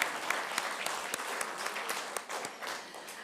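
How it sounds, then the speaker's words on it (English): Audience clapping at a journalism awards ceremony, a dense, steady round of applause with sharp individual claps standing out, sustained and fairly close throughout. "Oh, yes, we'll clap."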